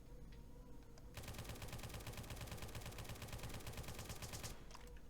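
An AK-47 in the game Dread fires a sustained automatic burst of rapid, evenly spaced shots lasting about three and a half seconds, loud and close against quiet ambience, with no voices.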